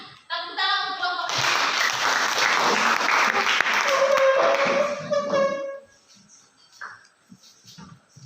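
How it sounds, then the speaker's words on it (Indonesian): Classroom audience applauding the anemia group before their presentation, a loud burst of many hands clapping for about five seconds, then dying away to scattered room noise and faint voices. "Tepuk tangan untuk kelompok"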